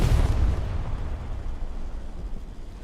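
A rocket blast in the video game Hell Let Loose, a heavy low boom at the start that decays into a long rumbling tail, with no voices over it.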